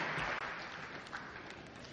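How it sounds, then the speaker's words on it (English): Applause from a debate audience after a speech, a dense, even wash of many hands clapping at once, sustained and moderately loud with no voices on top. "I very much appreciate your applause for me."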